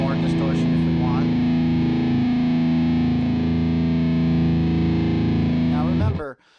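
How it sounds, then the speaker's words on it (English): Electric guitar driven through a Skull Driver fuzz pedal with the gain turned up, a thick sustained distorted chord ringing loud and steady before cutting off abruptly near the end. "Now gain, we can adjust that to get even more distortion if we want."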